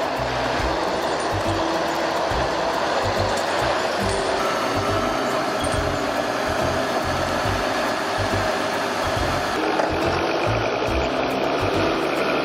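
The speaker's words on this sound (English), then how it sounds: "FH16 log truck with a powerful 750 horsepower engine slides on the slippery road" An FH16 log truck with a 750-horsepower engine slides on a slippery gorge road, helped by a timberjack tractor; a loud, continuous engine drone with a rough, pulsing low rumble runs unbroken throughout, with no voices.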